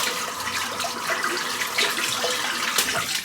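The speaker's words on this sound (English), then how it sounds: "I'm just going to quickly rinse this brush out" Running water splashes steadily over a silvertip shaving brush knot as it is rinsed under a bathroom tap, a continuous close hiss and patter with no talking.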